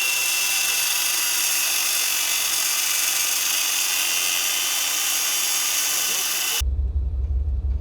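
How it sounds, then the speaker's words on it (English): A loud, harsh grinding whine from a power tool cuts through a hydraulic assist ram mounting bolt on a Jeep, running steadily and close for over six seconds before cutting off, leaving a low rumble. "he also decided it was best to trim off the mounting bolt for his hydraulic assist ram"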